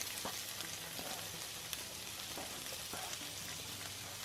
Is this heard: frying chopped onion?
yes